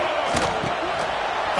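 Football stadium crowd roaring loudly as the home defense pins the opponents deep in their own end, a dense, sustained wall of cheering and noise throughout the short moment.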